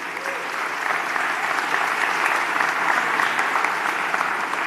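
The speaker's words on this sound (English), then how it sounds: "give them a round of applause for all they do" At a Coney Island town hall meeting with Mayor de Blasio, the crowd gives public servants a warm round of applause, a dense, continuous clapping from many people in a large room that holds steady throughout.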